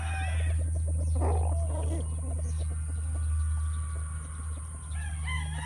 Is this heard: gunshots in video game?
no